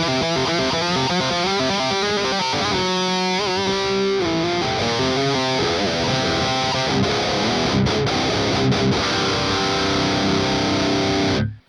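Electric guitar through a ToneX One pedal on a bell rock tone, thick distorted chords and sustained riffs with a few picked runs, loud and continuous until an abrupt cut at the end, no voices.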